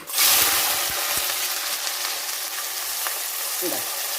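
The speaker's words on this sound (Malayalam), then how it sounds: "നമുക്ക് കൊഞ്ചിൻ്റെ ഉള്ളിയും വെളുത്തുള്ളിയും ഒക്കെ ആയിട്ടൊന്ന് വഴട്ടാം" Onions and garlic for a prawn curry hit hot oil with a loud burst of sizzling that settles into a steady, close frying hiss, with a few faint clinks of stirring near the end.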